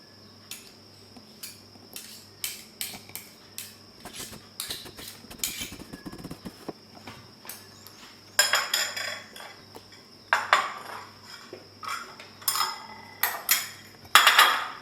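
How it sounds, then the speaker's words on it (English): A spoon scoops peanut butter into a high-protein smoothie, giving a series of scattered clinks, taps and scrapes against a container, with denser bursts of clatter later on and no voices. "Last but not least, we are going to scoop in our peanut butter."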